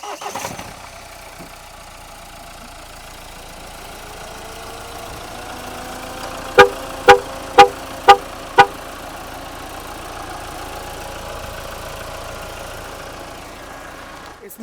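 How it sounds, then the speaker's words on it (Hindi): A Mahindra XUV diesel engine starts and settles into a steady, quiet idle hum with the air conditioning running, broken midway by five short, sharp chirps in quick succession. "तो पहले आपको मैं एक्सयूवी स्टार्ट करके दिखाता हूँ इसमें कितनी वाइब्रेशन आती है"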